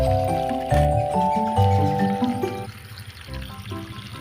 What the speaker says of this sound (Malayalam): ഇനി ഇതിലേക്ക് ഇവർ വെള്ളം ഒഴിക്കാൻ പോവാണ്.